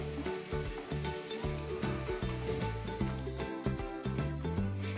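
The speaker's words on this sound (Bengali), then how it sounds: "পেঁয়াজটাকে বেশ ভালো করে লাল লাল করে ভেজে নেব" Chopped onions fry in a pan for a chicken tikka masala, giving a steady soft sizzle that sits beneath louder background music throughout.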